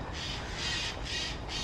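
Crow-like birds caw repeatedly in a Prague park, harsh calls spaced about every half second, moderately near over steady outdoor background noise.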